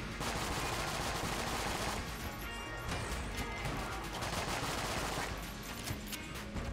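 Dense, continuous gunfire from the video game Enter the Gungeon, rapid shots blurring into a loud, unbroken barrage with crashing impacts layered throughout.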